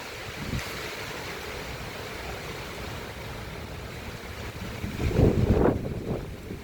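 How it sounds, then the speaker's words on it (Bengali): Lingering wind after a heavy rainstorm blows steadily outdoors, a constant broad rush with a stronger gust buffeting near the end, close to the microphone and with no voices. "এখনো চলছে অল্প অল্প হাওয়া।"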